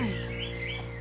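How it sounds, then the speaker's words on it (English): A large pet bird gives a short, loud, close call with rising and falling tones over a steady background hum at a veterinary clinic. "He's such a big bird, but he's so friendly."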